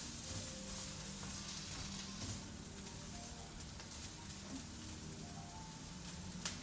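Mushrooms fry in a pan for vegetarian Taiwanese-style fried rice noodles, giving a steady, close hiss of sizzling oil that runs throughout with no talking.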